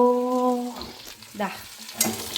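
Potatoes with meat masala stirred in a frying pan, with a brief opening tone, then soft scraping and sizzling that rise and fall under faint voice-like sounds and a few sharper clinks.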